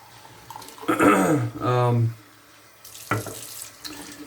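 A bathroom tap gushing into a sink in short bursts, water splashing close and loud between pauses, alongside a man's brief speech.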